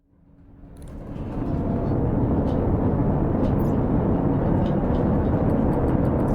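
A landing pod descends in the Stationeers video game, a deep, steady roar that swells over the first two seconds and then holds loud and even, with no talking.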